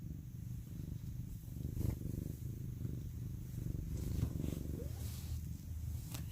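A house cat purrs steadily and close to the microphone while rubbing its face on a phone, a continuous low rumbling drone with a few soft bumps and rustles.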